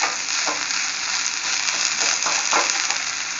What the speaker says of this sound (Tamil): இதை வந்து ஒரு ரெண்டே ரெண்டு நிமிஷம் நம்ம லேசாக எண்ணெயில் போட்டு நல்லா வதக்கிட்டு